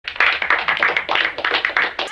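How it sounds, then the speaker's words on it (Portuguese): Studio audience clapping on a Brazilian TV talk show interview, a dense run of quick sharp claps with rhythmic surges that carries on for about two seconds, fairly close and loud. "Palmas!"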